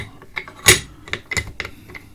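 Short clicking and ratcheting mechanical sounds as the charging handle of an airsoft sniper bolt carrier is slid back, a quick series of small metallic clicks close up, with one louder snap.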